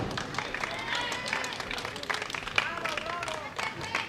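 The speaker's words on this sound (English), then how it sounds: "You hear the oohs and the ahs from the crowd." A bowling crowd at the women's world championship doubles finals oohs and applauds after a bowler rolls a double, a continuous wash of voices and scattered clapping with tonal exclamations rising and falling throughout.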